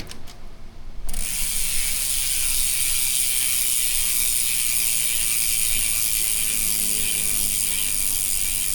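A rapid, steady buzz of fine metallic clicks from a freewheeling Retrospec road bike hub, starting abruptly after a brief quiet moment and continuing evenly.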